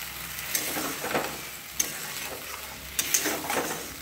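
Potato and spice paste with ground poppy seed sautéing in a pan, a steady soft sizzle with a few light clicks and scrapes of stirring, close and moderately quiet, no talk.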